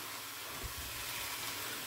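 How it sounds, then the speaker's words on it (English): Mushrooms in grapeseed oil sizzle in a skillet as a steady, broad hiss, close and even, with no voice over it. "So, now I'm going to let that saute down."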